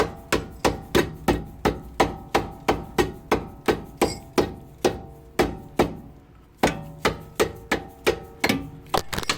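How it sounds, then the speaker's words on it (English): A dead blow hammer taps repeatedly on a tight-fitting front control arm of a BMW E90 335i, about two dozen sharp, close, evenly spaced knocks with one brief pause midway. "grab yourself a dead blow hammer and give it a few taps"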